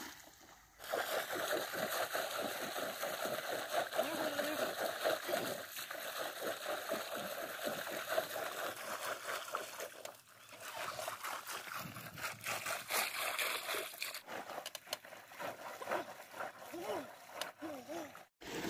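Freshly harvested carrots are washed in water in a basket at a village field. Splashing and running water continue under a voice talking throughout.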